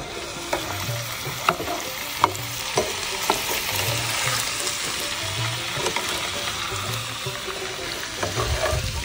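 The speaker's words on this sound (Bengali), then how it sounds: "ভালো মতো নেড়ে নেব।" Bitter gourd fries in a pan with a steady, close sizzle while a spatula stirs it in repeated scraping strokes. The scraping keeps a loose, regular rhythm throughout.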